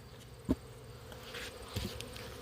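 Bees hum in a soft, steady drone, with a couple of faint knocks nearby.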